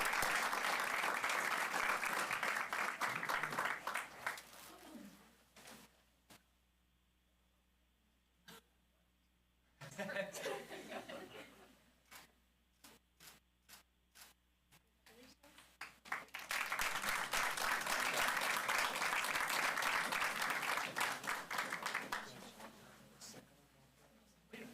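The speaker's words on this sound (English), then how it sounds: "let's give our students one more round of applause for their awesome community service" Applause for students at a school district board meeting, a large room of steady clapping that fades into near silence with scattered claps, then swells into a second long round of full applause.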